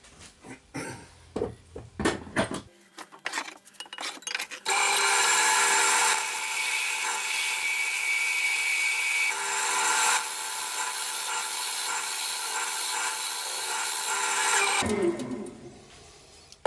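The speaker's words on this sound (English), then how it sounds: "just been using the skew chisel there because that gives you a nice angle which will fit in the dovetail jaws of your chuck." Wood spinning on a lathe being cut with a skew chisel to form a tenon, a long loud continuous scraping whir, preceded by a few knocks and short cuts and fading out at the end.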